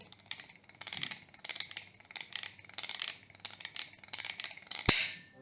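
An old MZA can seaming machine with a single bearing is turned by hand while idle, giving a steady run of light rhythmic clicks and ticks, then one sharp, loud click near the end.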